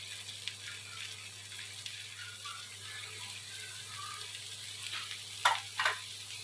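Okra and black eggplant added together in a pan for a mixed-vegetable curry, a quiet low sizzle with faint clinks, then two sharp scraping stirs of a spatula near the end.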